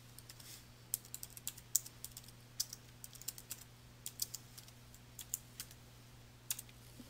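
Someone types a file name on a computer keyboard, producing light, quick, irregular key clicks close by in a quiet room over a low electrical hum.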